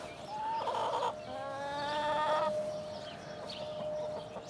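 Buff Orpington and barred rock hens clucking outdoors on a homestead in the morning, with several overlapping calls close by and a steady, moderately loud flow of clucks that carries through the whole stretch.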